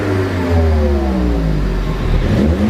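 A turbocharged ST car with its exhaust removed revs up and down, its engine and intake roaring close and loud with sweeping pitch changes and a faint clatter.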